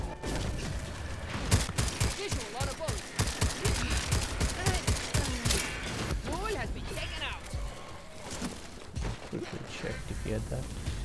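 A grenade blast and dense bursts of gunfire from a Second Extinction firefight, loud and continuous with repeated sharp shots and rumbling booms, while a player talks over the action.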